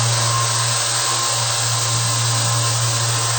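A knife sharpening machine runs a 1000-grit belt, a loud steady motor whine with constant abrasive hiss and a low hum throughout, no pauses.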